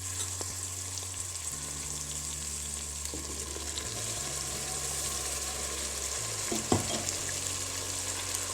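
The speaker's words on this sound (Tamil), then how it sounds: "புதினா இஞ்சி பூண்டு பேஸ்ட்டு அரைச்சி வச்சுருக்கு அதை இப்போ தக்காளியோட வதங்கிடுச்சு அதில் ஆட் பண்ண" Mint, ginger and garlic paste frying with softened tomatoes in a pan for mint rice, a steady broadband sizzle with occasional stirring scrapes, continuous and fairly close.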